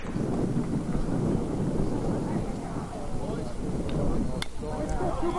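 Wind buffets the microphone at an outdoor baseball field, a loud, continuous low rumble filling the whole stretch with faint crowd noise beneath.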